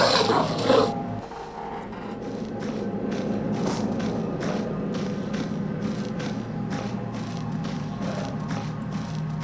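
Doom dogs in the STALKER Anomaly mod growl and snarl in a continuous rough rumble, joined by a series of faint rhythmic clicks and rattles, with a brief louder burst at the start and no voices.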